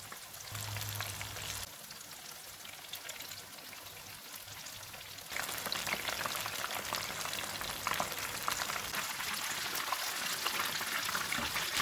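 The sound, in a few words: chicken pakoras deep frying in hot oil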